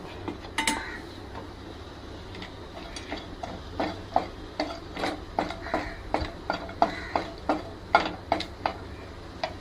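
Cashews frying lightly in ghee in a pan, a steady run of soft ticking and clinking taps as they are stirred and tossed, close and fairly quiet, with a low background hum and no talking.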